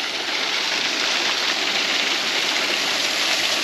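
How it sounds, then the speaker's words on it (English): Hot water flows steadily at hot spring pools, a continuous broadband rush like a stream, constant and fairly loud with no talking. "Hot water."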